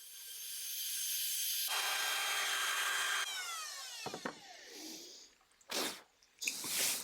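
A router follows a template to cut out a damaged section of an antique wooden table from the 1700s, giving a sustained, close, whining cut that shifts in pitch and then breaks into short bursts and scrapes.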